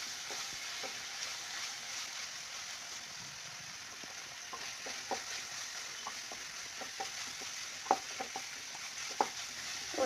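Bitter gourd slices frying on a high flame for a Telangana-style stir-fry make a steady, fairly soft oil sizzle with scattered small pops and crackles throughout.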